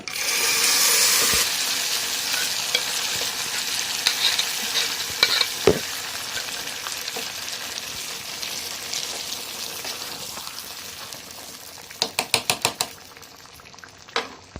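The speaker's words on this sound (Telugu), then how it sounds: "నిమ్మకాయ పప్పు వేసేస్తున్నాను" Lemon dal poured into a sizzling tempering of oil with curry leaves in a pan, a loud hiss at first that settles into steady frying, with spoon scrapes and a quick run of clinks near the end.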